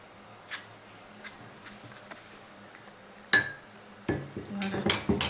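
A spoon clinks and scrapes in a bowl as mustard and pepper are mixed into a mayonnaise-style sauce for fish soup; a quiet stretch gives way to a sharp clink, then a busier run of scraping in the last seconds.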